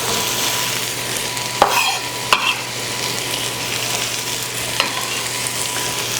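Chopped bell peppers sizzle steadily in a hot frying pan, with a few sharp clacks of a utensil stirring against the pan.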